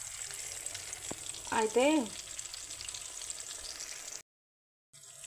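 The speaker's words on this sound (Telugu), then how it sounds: "చేప ముక్కలు మంచిగా డీప్ ఫ్రై అయ్యాయి" Fish pieces deep frying in hot oil give a steady, close bubbling sizzle that runs throughout, as a person speaks briefly over it, followed by a short dropout to silence before the frying resumes.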